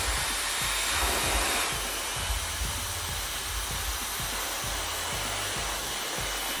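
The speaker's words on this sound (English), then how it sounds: "I'm gonna take my blow dryer and just gonna blow dry the hell out of it" A handheld blow dryer drying hair, a loud continuous whooshing roar close to the mic with a faint rhythmic thumping underneath as the hair is scrunched.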